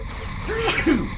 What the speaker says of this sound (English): I was in the middle of sneezing